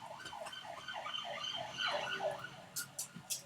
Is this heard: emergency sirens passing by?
yes